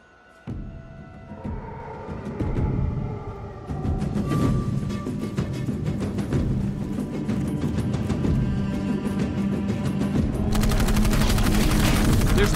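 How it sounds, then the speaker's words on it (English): Heavy, sustained gunfire in the video game Dark Void, with rapid bursts and repeated shots, dense and loud throughout, building in intensity toward the end, with a faint voice at times. "They must have heard the gunfire."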